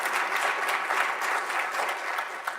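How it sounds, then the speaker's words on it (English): Audience at a research conference keynote session clapping steadily, a brief, even burst of applause from a seated crowd. "Let's give him a round of applause."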